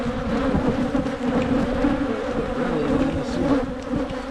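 Honey bees at an opened hive in January make a dense, continuous buzz close by, a steady swarm of droning wings with no voices.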